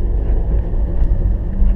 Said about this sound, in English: When you want to come to a complete stop, foot on the clutch,